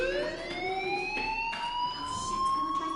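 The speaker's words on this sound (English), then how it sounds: "do you hear that fire alarm?" A school fire alarm in the video game Life is Strange rings as a steady, rising electronic siren tone, moderately loud and continuous with no talking.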